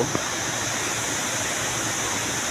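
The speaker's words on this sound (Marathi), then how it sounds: "दोन्ही पहाडीच्या बिजातून पाणी वाहत येतो आहे" Rainwater streaming down between two hills in a forested hill area of Gondia district, a steady, even rush of flowing water that holds at one level throughout with no voices.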